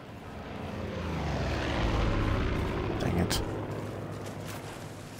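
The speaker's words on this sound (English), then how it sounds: "I notice here lately I've been hunted by planes." Propeller airplanes in a video game pass overhead, a broad engine drone swelling to a peak mid-clip then fading, with game effects and a voice faintly underneath.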